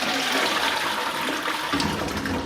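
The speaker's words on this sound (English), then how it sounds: "if you listen as well when you flush, it makes a mad sound" A toilet flushes in an old pub in Birmingham, a loud, continuous rushing and gurgling of water that fills the whole short stretch without pause.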